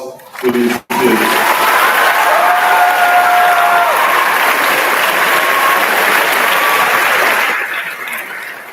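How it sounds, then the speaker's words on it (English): A school assembly crowd breaks into loud, sustained applause after a brief pause, continuing strongly before tapering off near the end, with a faint tone running underneath. "And one more round of applause for these kids"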